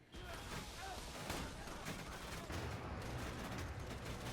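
Steady, dense gunfire from a gun in Borderlands 2, loud and continuous for several seconds with a busy game soundscape underneath.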